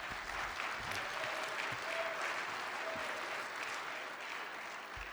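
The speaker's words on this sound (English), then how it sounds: "Give him a round of applause." Steady audience applause after a talk, a dense even wash of many hands clapping that holds at a constant level throughout, with no voices standing out.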